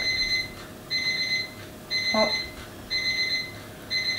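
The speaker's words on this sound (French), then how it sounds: "le minuteur qui sonne" A kitchen timer rings in repeated short electronic beeping bursts, about one per second, with a brief exclamation partway through.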